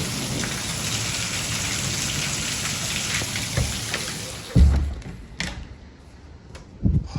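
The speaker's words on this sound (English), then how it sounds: "Yep, there's actual hail." Rain and hail pour down during a severe spring storm, a steady hiss of heavy precipitation that thins partway through, with several sharp nearby impacts or bangs toward the end.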